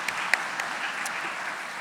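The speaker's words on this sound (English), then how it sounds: "So let's give them both another round of applause" An audience at the 34th Annual Golden Apple Gala, a school district awards event, gives a steady round of applause, a dense wash of clapping with a few sharper claps standing out near the start.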